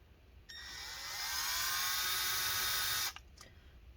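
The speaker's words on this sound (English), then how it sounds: "it's hard to see what I'm drilling when I do that" A power drill bores into a Lenovo Yoga 720-15IKB laptop during disassembly, spinning up with a sharp whine that rises in pitch, holds for a few seconds, then cuts off, followed by a couple of brief bursts.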